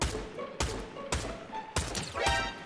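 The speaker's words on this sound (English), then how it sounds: "They've got a sniper!" Several sharp, loud rifle shots ring out at irregular intervals, about five blasts with booming low ends and brief tails, from an enemy sniper in the online shooter game Fortnite, with faint game ambience between them.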